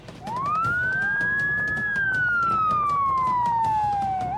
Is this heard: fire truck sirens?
yes